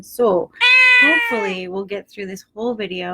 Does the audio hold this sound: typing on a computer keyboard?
no